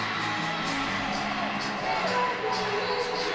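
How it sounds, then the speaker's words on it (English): Crowd noise fills a gymnastics arena at a conference championship meet, a steady dense roar of voices with scattered whoops and cheers swelling slightly midway, fans chirping along with the Cardinals team. "You can see the Cardinals getting the crowd to chirp with them over there"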